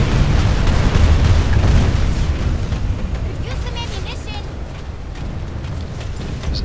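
Sustained gunfire and booming blasts aimed at tanks on a PlanetSide 2 battlefield, loud and continuous with heavy low rumble, while a player talks over the din.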